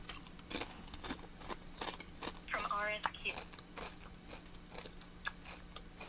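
Someone chews crunchy chips close to the mic, with a run of sharp, irregular crunches and bites throughout. A voice speaks briefly over the chewing.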